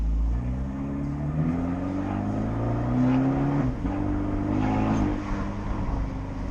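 An Abarth 124 Spider's engine revs and its exhaust burbles from inside the car, a loud, rising and falling drone broken by a few sharp pops.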